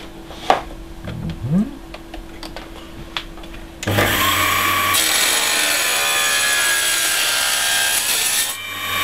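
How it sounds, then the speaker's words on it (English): Wood being cut for a wedge in ship-model workshop, starting with a few sharp knocks and scrapes, then a loud continuous buzzing cut that holds steady for about five seconds before stopping. "cut it with a saw."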